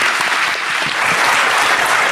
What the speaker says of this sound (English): So please join me in a warm applause